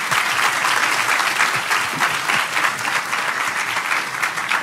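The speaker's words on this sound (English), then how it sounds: "let's give them a round of applause one more time" A church congregation applauds guest speakers at a Sunday service, a sustained, even burst of many hands clapping heard at moderate distance, with no speech over it.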